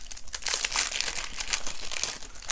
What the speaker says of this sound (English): we're going to pull off the cellophane wrapping here